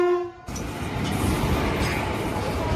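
A train pulls into a station on a family trip to Darjeeling: a horn tone at the start gives way to a loud, continuous rumble of rolling railcars with a faint clickety-clack.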